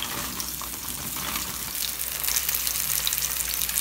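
Garlic and spinach sauté in a hot pan, giving a steady, close hiss of frying that grows slightly louder toward the end, with no voices.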